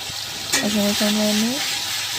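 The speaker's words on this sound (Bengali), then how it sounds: "এখন আমি এখানে কড়াইয়ে তেল একটু গরম করে দিয়ে এলাচ দারচিনি 2 টুকরো দিয়ে দিয়েছি, আর আদা রসুন বাটা 2 টেবিল চামচ সেটা দিয়ে দিয়েছি।" Ginger-garlic paste fries with cardamom and cinnamon in hot oil in a wok, a dense close sizzle under a brief tonal squeal or creak near the middle, no talking.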